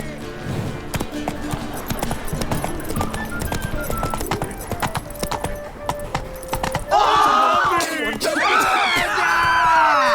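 A horse galloping in The Witcher 3: Wild Hunt, with rapid rhythmic hoofbeats throughout, joined near the end by a loud whinny and combat cries.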